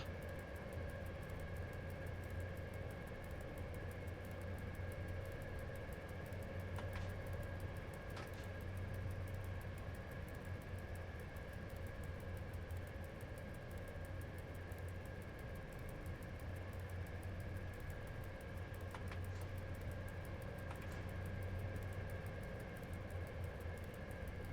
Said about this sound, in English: I don't know how it sounds in real life with this exact train, but it sounds the way it should